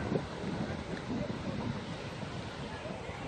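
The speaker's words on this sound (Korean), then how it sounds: "파도 소리 들리실라나?" Steady broadband wash of surf rolling in at Daecheon Beach, with wind buffeting the microphone throughout; a continuous outdoor roar without distinct breaks.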